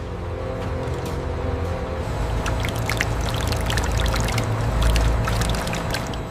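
Molten beeswax pouring steadily into a large factory mixer during candle making, a continuous liquid rush and trickle with a few bright splashes, fairly loud and close, no talk.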